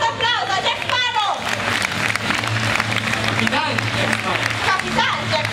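Applause and cheering from a convention crowd for a Jack Sparrow cosplayer, loud and continuous throughout, with an announcer's amplified voice and shouting over it.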